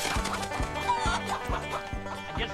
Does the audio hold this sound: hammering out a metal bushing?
no